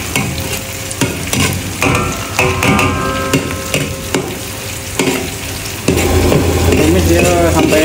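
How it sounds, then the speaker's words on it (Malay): Ginger and spices sautéing in oil for a sea bass fish soup, loud close sizzling with frequent scraping and clanking of a utensil stirring the pan, the hiss swelling near the end. "kemudian halia, 3 sekawan dan sup bunjut. Kita tumis dulu."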